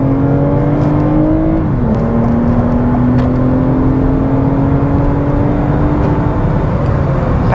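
2021 Toyota Avalon TRD sedan accelerating, engine note climbing steadily from inside the cabin, with a brief dip at a gear change before it resumes a loud, sustained rising drone.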